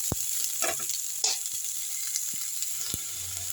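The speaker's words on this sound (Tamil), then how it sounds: "இது நல்லா வதக்கிடலாம் பச்சை வாசனை போனால் போதும்" Onions sauté in a pan for chicken chops, giving a soft, steady sizzle close by. A few light taps and scrapes from stirring punctuate it, and nobody speaks.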